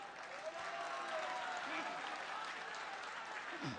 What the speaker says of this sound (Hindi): बंगाल वालों, एक बार ताली बजा दीजिए आप लोग।